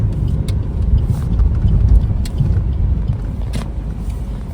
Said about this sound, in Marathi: थोडंसं स्पेस आहे इथे रस्त्याच्या बाजूला तिथेच आपली कार पार्क करूया